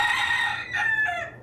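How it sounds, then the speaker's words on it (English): A rooster crows close by in one long, loud cock-a-doodle-doo, followed by a short second crow and a clucking note, with no other sounds. "Chickens."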